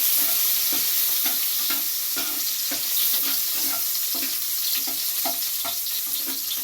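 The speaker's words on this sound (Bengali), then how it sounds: "গ্যাসটা একদম সিম করে দিয়ে কাজু কিশমিশগুলোকে ভেজে নেব" Cashews and raisins fry in a pan over a low flame, making a constant hissing sizzle. Regular scraping strokes of a spoon stir them at a steady rhythm, close by, and no one speaks.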